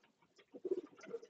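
Soft, low cooing of racing pigeons in a breeding loft, a few throaty rolling coos close by in an otherwise quiet space.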